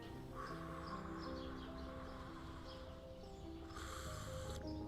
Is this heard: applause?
no